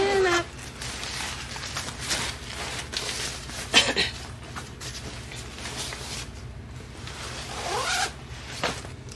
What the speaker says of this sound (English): And then me wanna zip them up.